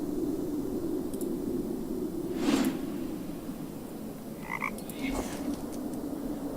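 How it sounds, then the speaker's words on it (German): Frogs croak in the Raincliff video game, with a couple of short croaking calls standing out over a steady low ambient hum and soft background noise. "Der 39. Frosch."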